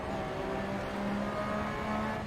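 Porsche 911 RSR race car engine in Assetto Corsa on the Nordschleife tourist loop, a steady sustained drone with rising harmonic tones as it accelerates out of flowing corners, continuous and fairly loud with no talk.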